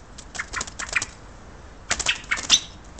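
A small wild bird caught in a bushcraft trap flaps its wings in two rapid, close bursts of fluttering, separated by a short pause, with no speech.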